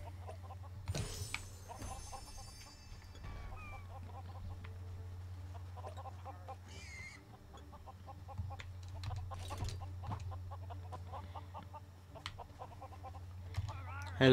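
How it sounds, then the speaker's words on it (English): Chickens cluck in the video game Lego Worlds, sounding as a few scattered clucks and squawks over a steady low game drone, with no talking. "Chicken!"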